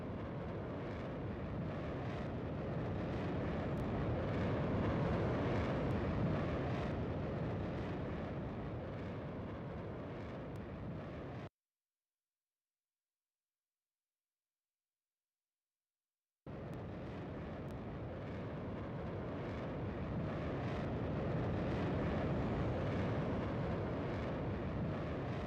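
Jet aircraft pushed hard through tight maneuvers at the 2025 Seilam Airshow, a loud, sustained broadband roar that swells and eases, cut by a few seconds of total silence before the roar returns.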